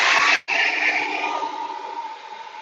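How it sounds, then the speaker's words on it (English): Hair dryer blowing on wet paint, a loud steady whooshing airflow that cuts out briefly, restarts and gradually eases lower and quieter. "We're going to need to pull out the hair dryer, or else that's going to start picking up some of the paint."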